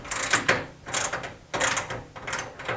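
A Gearwrench pass-through ratchet wrench turns a nut in four quick bursts of clicking ratchet strokes with brief pauses between, close and fairly loud with no voices.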